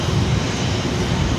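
An airliner taking off from runway 24 right at LAX, heard as a loud, continuous low engine roar filling a brief moment with no break.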